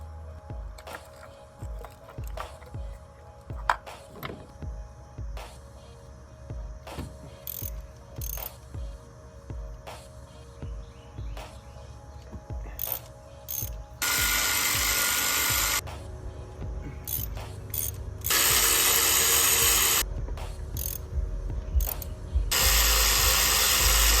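Ratchet wrench works spark plugs out of a Mazdaspeed3 engine, a near series of clicking pawl ticks and turning with short pauses, then several longer bursts of loud, rapid ratcheting toward the end.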